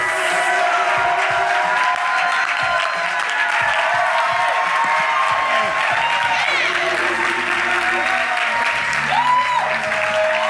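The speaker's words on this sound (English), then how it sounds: "I want y'all to give another round of applause once again for Vincent." A live concert audience applauds steadily at a Pride event, a dense continuous wash of clapping and cheering with no break across the whole stretch.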